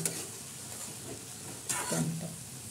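Fenugreek leaf vegetable (methi bhaji) being stirred in a kadai, a soft continuous scraping with a brief louder sweep of the spoon partway through, close by and with no voices.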